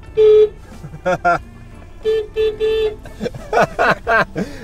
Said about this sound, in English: It's a toy car beep.